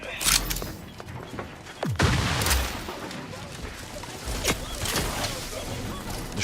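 Shock weapons firing in The Outer Worlds, repeated bursts and crackling booms scattered through a busy combat mix, with a sweeping descending tone near the middle.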